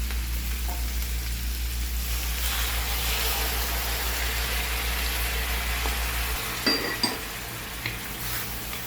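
Soy sauce is poured into duck adobo simmering in coconut milk, giving a steady loud sizzle with a low hum beneath, followed by a few clinks of a utensil against the pan.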